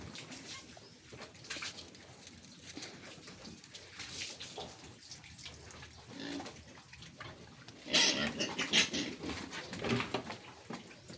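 Water poured onto a floor while dogs are being bathed, a continuous splashing wash that swells louder midway with bursts of splatter, outdoors with faint background activity.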